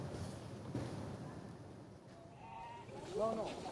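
Goats on a farm stocked with animals imported from Thailand, Australia and Myanmar bleat a few times near the end, over a steady murmur of people talking nearby.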